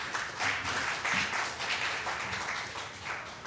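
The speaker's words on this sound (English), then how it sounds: "Please give them all a round of applause." Audience at a Gambling Harm Awareness Week launch event clapping for introduced guests, a dense, even round of applause of moderate volume lasting several seconds.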